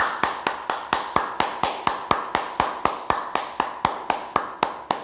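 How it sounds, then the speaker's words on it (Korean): A church congregation at a Korean children's Sunday worship service clapping in unison, a steady brisk rhythm of sharp, evenly spaced claps, around four per second, with no talk. "우리 하나님께 영광과 감사의 박수를 올려드리겠습니다"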